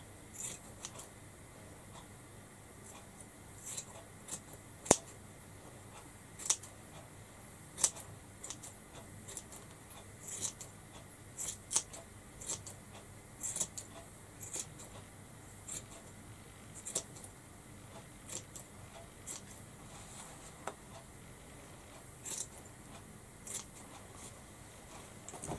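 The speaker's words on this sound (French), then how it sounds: "je coupe les mèches qui dépassent" Scissors snipping stray strands of a rag doll's hair, short crisp cuts scattered irregularly over a quiet background, close and faint, no talk.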